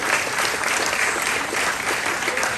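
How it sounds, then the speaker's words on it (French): An audience at a USAID and University of Kansas agricultural technology park launch at the Université chrétienne du Nord warmly applauds scholarship students, producing dense, loud and sustained clapping that fills the room with no talk over it. "Je vous demande de les applaudir chaudement."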